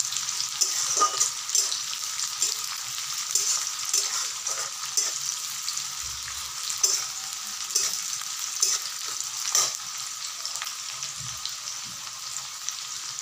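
Vegetables and small fish fry in spiced oil in a pan, a constant bright sizzle punctuated by repeated soft scrapes and knocks of gentle stirring, close and with no voices.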